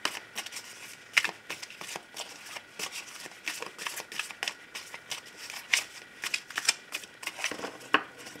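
Tarot cards are shuffled and cut by hand in a quick, close run of papery riffles and snaps, with soft rustling between the sharper flicks and no talking.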